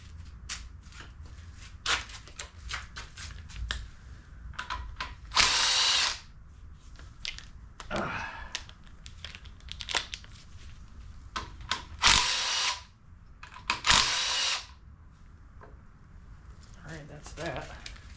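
Bursts of a power tool whirring off the 9/16 socket bolts of an oil pump on a seized engine, several short runs spaced across the clip between quieter shuffling and clinking of tools, close up.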